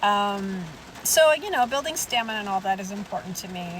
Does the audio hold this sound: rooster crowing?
no